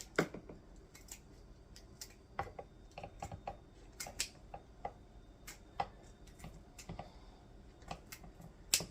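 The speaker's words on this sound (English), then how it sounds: "Get that bacon cut up to go on top." Kitchen shears snip up strips of bacon in a home kitchen, giving a steady run of quiet, crisp cutting clicks at an irregular but busy rhythm, close by and without talk.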